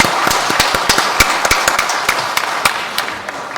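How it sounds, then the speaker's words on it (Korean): Congregation clapping during a Sunday church Mass, sparse individual claps popping out sharply and irregularly over a thin bed of scattered hands, fairly close and loud. "다시 한번 격려의 박수 부탁드립니다"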